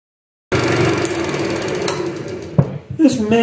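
Gouge cutting a warped wooden bowl blank on a lathe, a steady buzzing, chattering scrape with uneven bumps as the tool loses and regains contact.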